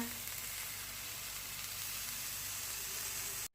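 Ingredients dry-roast in a pan for a spicy Thai tom khlong soup, giving a soft, steady sizzle and hiss that runs evenly and then cuts off abruptly.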